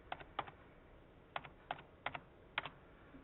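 Several short bursts of computer keyboard keystrokes as a password is typed, clustered in quick pairs and triplets with brief pauses between, close and fairly quiet, with no talking.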